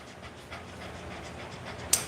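An elderly, roughly 13-year-old dog panting steadily during a grooming session, a soft rapid breathy rhythm close to the mic, with a brief sharp click near the end.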